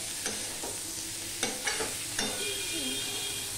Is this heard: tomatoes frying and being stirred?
yes